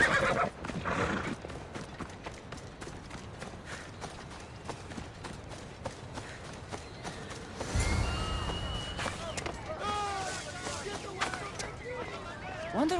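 Horses neighing and whinnying in Assassin's Creed Odyssey, with hoof clip-clops and game ambience; several whinnies rise in the second half, fairly near, while a person talks over parts of it.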